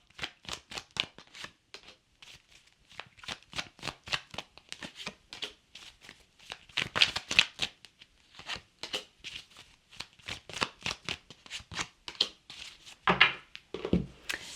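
Tarot cards shuffled by hand in a steady stream of rapid papery riffles and flicks, fairly close and continuous, with no voice over them.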